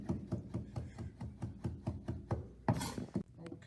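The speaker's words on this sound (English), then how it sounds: "When we dice the parsley, we want to dice it small." A knife chops fresh Italian parsley on a board in a steady, quick rhythm of about a dozen close, crisp strikes, then a brief scraping sweep near the end.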